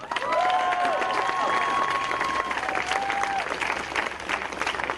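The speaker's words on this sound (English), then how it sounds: "Let's give a round of applause for that." Steady applause from a crowd at a racial justice protest in the U.S., clapping dense and sustained throughout, with a few whistles and faint cheers rising over it.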